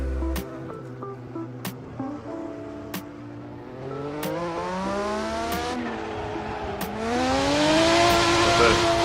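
A race car engine revs and shifts through rising whines, with sharp clicks between gears, growing louder toward the end.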